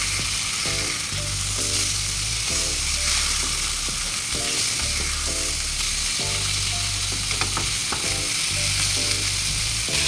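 Steady oil sizzling of fish frying for fish curry fills the clip, a continuous broadband crackle with no talk, while a low repeating hum and faint clinks sit underneath.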